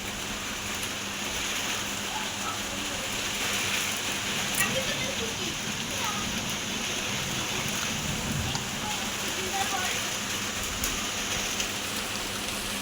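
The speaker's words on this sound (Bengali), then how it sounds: "এই দেখো হাওয়াও হচ্ছে বৃষ্টিও হচ্ছে" Rain falls steadily while wind blows, a continuous broadband wash that holds an even level throughout, with occasional faint knocks and no clear talking.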